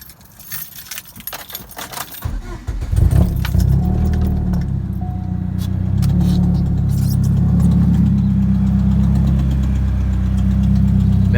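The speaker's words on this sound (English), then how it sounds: "Let me go ahead and start the car for y'all." A Chevrolet Cobalt with a leaking header starting up: keys jangle first, then the engine cranks and catches, settling into a steady close idle with a faint tick.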